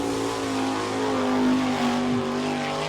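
Sprint car number 98 with a Junior Holbrook Eagle chassis gets underway at Attica, Ohio, its engine droning loud and close in a sustained high pitch that rises and falls slightly as it accelerates, with no voices.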